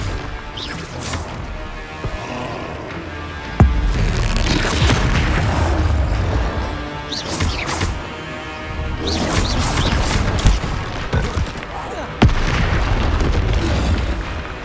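Confringo blasting spells explode in Hogwarts Legacy combat, with repeated loud booms and crashing bursts at irregular intervals over a busy layer of game effects and music.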